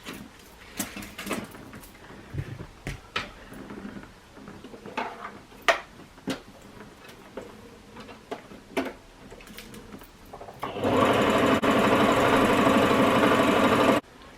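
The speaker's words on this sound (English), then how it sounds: "Next I'm going to go ahead and overlock the top of the shoulders." An overlocker stitches the shoulder seams of a cowl neck blouse. Scattered ticks and handling knocks come first, then the machine runs in a loud, steady, close burst for about three seconds near the end.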